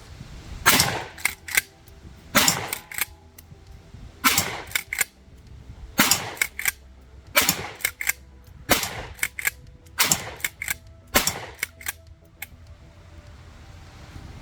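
Shotgun fired at a propane cylinder at an outdoor range, about ten sharp loud blasts spaced roughly a second or more apart, each with a brief ringing tail.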